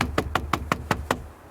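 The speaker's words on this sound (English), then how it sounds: "What is making knocks?" Seven sharp wooden knocks in the woods ring out in an even, quick rhythm, each fairly loud with a short resonant tail, alone without talk.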